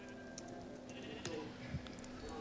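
Sheep bleat in the video game Minecraft, two or three short cries over a steady game background hum, fairly close and moderately loud.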